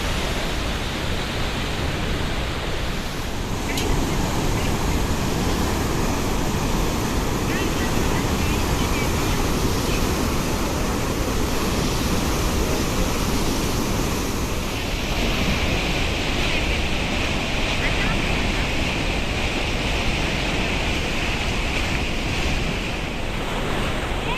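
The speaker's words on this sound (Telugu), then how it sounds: "చూడొచ్చు ఎంత ఫ్లో ఉందో వాటర్లో" Heavy water flow rushing through Mallanna Sagar dam, a dense continuous roar filling the whole stretch with wind buffeting the microphone and a voice faintly underneath.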